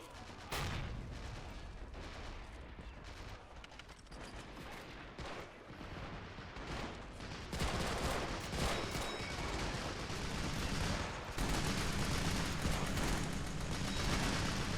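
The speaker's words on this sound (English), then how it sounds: "we've got a tank over here that's opening up, along with a twin AA gun" A tank and a twin anti-aircraft gun open fire in a Men of War WWII beach-assault game set on Guam, dense rapid bursts and booming shots, growing louder and more continuous after the midpoint.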